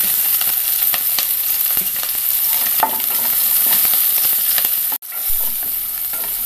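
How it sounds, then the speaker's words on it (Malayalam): Green chillies, garlic and curry leaves fry in hot oil for a tomato chicken curry, giving a loud, steady close-up sizzle with stirring scrapes, then a sudden brief dropout near the end. "പച്ചമുളകും വെളുത്തുള്ളിയൊക്കെ നന്നായിട്ട് മൂത്തിട്ടുണ്ട്"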